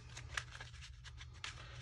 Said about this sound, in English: Shuffling again